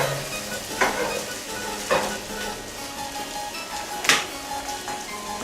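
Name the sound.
breakfast sausage sizzling while frying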